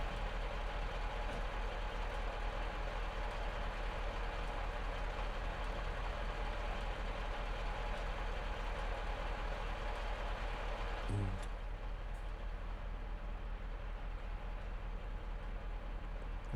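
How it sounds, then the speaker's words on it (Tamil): Truck engine in Euro Truck Simulator 2 running with a fault, a steady loud low drone and broadband rumble throughout, with a brief thump near the end; no talk. "அதுதான் வந்து இன்ஜின் ப்ராப்ளத்தோட சவுண்டுங்க"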